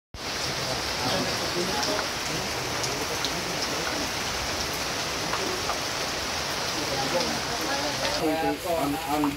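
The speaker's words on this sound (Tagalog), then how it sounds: "Lumakas ang ulan." Heavy rain pours steadily at a cemetery, a dense continuous hiss of drops on surfaces, with people talking nearby under the downpour.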